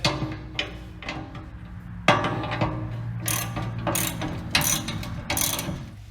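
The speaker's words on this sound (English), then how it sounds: "So I'll just take these, tighten these back up where they sit." Bolts on the legs of a rubber snowplow cutting edge are tightened with a ratchet, making close, loud bursts of rapid clicking separated by brief pauses.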